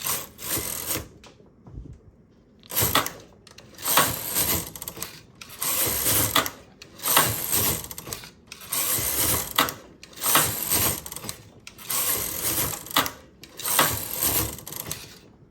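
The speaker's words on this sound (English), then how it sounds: "I will knit another 8 rows and do another transfer." A knitting machine runs back and forth knitting rows of a summer top, each pass a loud mechanical rattling whir of about one and a half seconds with brief gaps between passes, steady and close.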